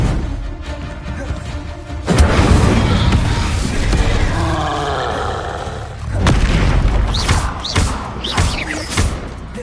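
A fire spell bursts in Hogwarts Legacy with a heavy thudding whoosh, followed by a sustained roaring blaze and a second boom later, with faint voice-like calls over the crackle.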